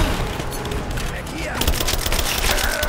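Rapid machine pistol fire crackles in the Rise of the Tomb Raider video game, dense bursts of sharp shots that get busier in the second half over a loud, rumbling din, with a voice speaking.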